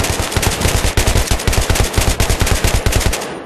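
Rapid automatic gunfire in Battlefield 3, a loud continuous burst of evenly spaced shots close up, lasting several seconds before cutting off.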